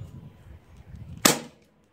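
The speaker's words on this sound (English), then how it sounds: "So let's cock it back. And I'm gonna shoot at close range." A Sig Sauer P226 BB pistol fires a single sharp crack at close range, standing out after a moment of low background rumble.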